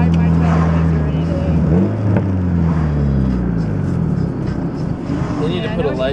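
A turbocharged Honda Civic making 371 horsepower to the wheels, its engine droning and rising through the gears during a ride, loud and steady from inside the car, with voices talking over it.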